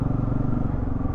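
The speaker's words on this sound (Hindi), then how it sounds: "NS200 से काफ़ी मिलता जुलता है इसका exhaust sound, and dual muffler है इसमें" Bajaj Pulsar F250 motorcycle with a dual-muffler exhaust, a steady, loud, bass-heavy engine drone heard close up and alone while riding in the hills.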